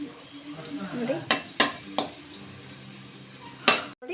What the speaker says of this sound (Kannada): ಸ್ವಲ್ಪ ದ್ರಾಕ್ಷಿ ಹಾಕ್ತಾಯಿದ್ದೀನಿ. ಅವನ್ನು ಕೂಡ ಸ್ವಲ್ಪ ಫ್ರೈ ಮಾಡೋಣ